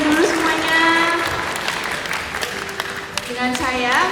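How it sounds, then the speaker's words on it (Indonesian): At a sweet seventeen birthday party, guests clap in a steady wash while a voice speaks over it near the start and again at the end. "Tepuk tangan dulu semuanya."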